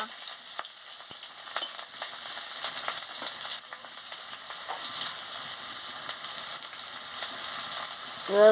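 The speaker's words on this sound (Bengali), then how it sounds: "কাঁচা লঙ্কা কুচি দিয়ে দিচ্ছি দিয়ে ভালো করে আমি মশলাটাকে ভেজে নিচ্ছি" A spice paste with chopped green chillies fries steadily in a pan, a continuous close hiss with light stirring taps scattered through.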